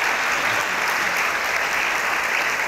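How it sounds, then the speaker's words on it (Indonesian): Steady, dense applause from an audience, close and even in level, with no break for the whole short stretch. "Luar biasa, tepuk tangan deh, luar biasa."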